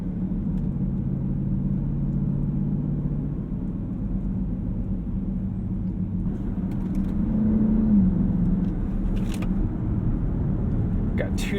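A 2020 Dodge Durango SRT with its 8-speed automatic transmission, heard from inside as a steady low engine drone that swells slightly partway through, with a voice talking over it.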